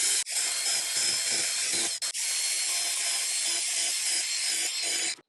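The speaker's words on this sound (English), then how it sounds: "take a drill and drill some holes in this" A loud, continuous power tool grinds and whirs through wood, cutting out briefly twice before stopping abruptly.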